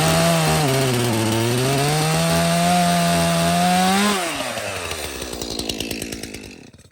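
A chainsaw cuts into a tree stump on an overgrown blueberry farm, screaming loud and close under load with the pitch wavering, then dropping and sputtering as the chain slows toward the end.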